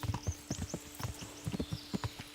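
A horse's hooves clip-clop while it is ridden in Kingdom Come: Deliverance, a rapid uneven run of close, distinct thuds with faint higher tones in the background.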